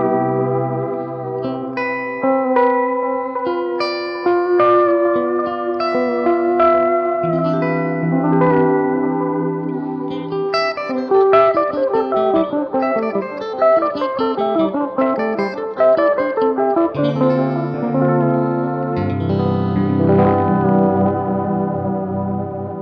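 Electric guitar runs through a Red Witch Cynosium modulated delay pedal, cascading notes repeating in echoing trails with a slight clipped edge, layered phrases building and overlapping into a dense, shimmering wash before settling on sustained low chords.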